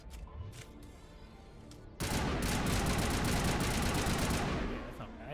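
Rapid automatic assault rifle fire in the video game Mass Effect, a dense unbroken burst that starts abruptly after a quieter stretch and runs loud for about three seconds before tapering off.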